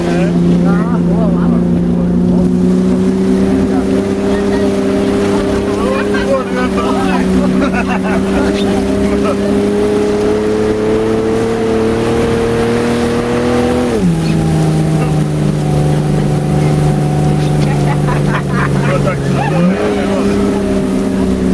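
A heavy snowcat's engine drones steadily up close, its pitch shifting down and back up, with people talking over the rumble, on a ride in the Krkonoše mountains.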